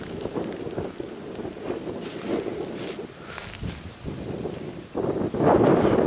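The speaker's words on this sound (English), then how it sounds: "As soon as we call, the wind starts blowing." Wind gusts sweep steadily across an outdoor turkey-hunting spot in Indiana, rising into a louder, rushing blast near the end with no talk.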